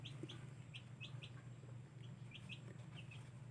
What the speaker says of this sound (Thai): เป็นไงความสุขของไก่ ในวันที่ฝนตก